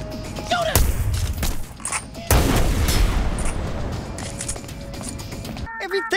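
Gunfire from the video game Hitman bursts out in loud, close rounds, with sharp cracks and dense rattling volleys; a voice shouts briefly over the shooting.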